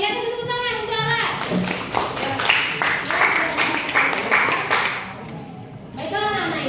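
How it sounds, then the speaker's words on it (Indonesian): Classroom applause from students for a classmate, a dense burst of many hands clapping that swells for about five seconds, then stops, leaving a teacher talking before and after. "Sekalian kasih tepuk tangan untuk Alan."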